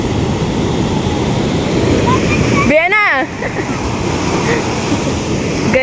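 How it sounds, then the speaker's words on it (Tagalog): Sea waves crash and wash on a beach where people are swimming, a continuous loud roar of surf with a person shouting briefly midway. "Guys, tingin po naman yung alon."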